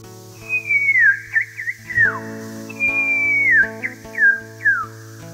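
A person whistles an imitation of a kokako bird call: two clear, loud phrases of a long falling note followed by short looping warbles, over a faint steady background hum.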